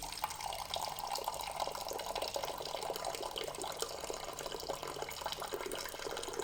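Hot water poured into a glass at home in the morning, a steady close splashing stream that runs continuously and evenly without pause.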